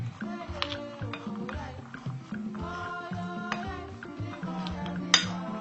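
A tablespoon mixes butter into blanched peanuts in a bowl, giving soft scraping and occasional light clinks, close and quiet beneath a person's ongoing speech.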